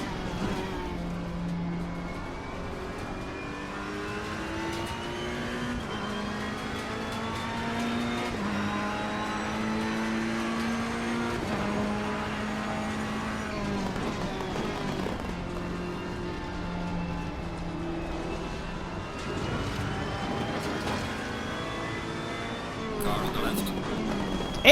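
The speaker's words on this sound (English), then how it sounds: "I'm actually driving my Ferrari" Ferrari race car engine in Assetto Corsa Competizione on PS4, a steady loud racing drone with harmonic tones rising and falling through repeated gear shifts and revving, continuous for the whole run.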